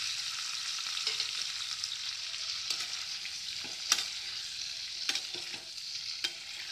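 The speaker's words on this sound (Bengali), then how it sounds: "কাঁচা লঙ্কা একটু ভাজা হয়ে গেছে, এবার ভাজা আলুগুলো দিয়ে দিলাম।" Fried potatoes are stirred into green chillies frying in a pan for methi aloo, a soft continuous sizzle broken by several scraping spoon strokes and clatters near the end.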